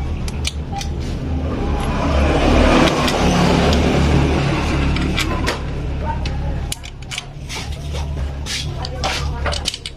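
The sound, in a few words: motorcycle engine running with exhaust open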